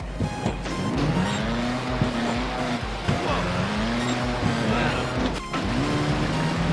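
A mini bike engine in the game Trials Evolution drones steadily with a rising and falling whine, mixed with tire-like squeals, loud and continuous, while a voice talks over it.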